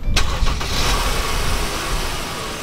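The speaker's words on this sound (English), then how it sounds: "I'll turn on the car now." A Mercedes W204 C300 engine cranks and catches, then settles into a steady idle with a broad, loud rumble that continues through to the end, with no talking.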